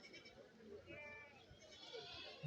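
A large billy goat bleats at a Kerala goat market, its cry moderately close amid a murmur of people talking and general market bustle.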